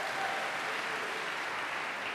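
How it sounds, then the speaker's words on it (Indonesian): Congregation clapping in a church service, a steady dense wash of applause that stays fairly soft and even throughout. "Tepuk tangan bagi Allah kita."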